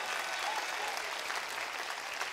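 Audience at a Sicilian cabaret show breaking into dense, steady applause, many hands clapping evenly throughout, heard at a moderate, somewhat distant level.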